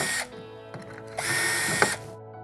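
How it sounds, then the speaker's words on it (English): A power drill pre-drills holes in a wooden drawer box, two short whirring bursts with a brief pause between, close and loud with no talking. "we're going to pre-drill the first and third or 2 outer holes"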